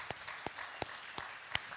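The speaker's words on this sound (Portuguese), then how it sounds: "palmas para o Senhor" A church audience claps in steady, evenly spaced beats during a sermon. The sound is faint and distant, about five sharp claps over a soft room hum.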